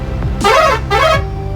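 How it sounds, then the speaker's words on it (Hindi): Two loud horn blasts from a 2019 3718 overload-body truck in a traffic jam, each about half a second, with a short gap between them, over a steady engine rumble. "हॉर्न की क्वालिटी आप सुन सकते हैं"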